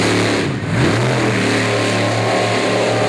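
Bigfoot monster truck, driven by Dan Runte, revs hard while spinning a donut on a dirt track at an Evansville, Indiana monster truck show, a loud continuous engine roar that rises and holds, close up and steady throughout.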